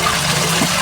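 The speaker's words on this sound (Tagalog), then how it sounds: "Lagyan natin ng tubig, tubigan natin para para hindi masayang." Water pours into a cooking pan holding a little leftover food, a short, steady gushing splash close by with no talk.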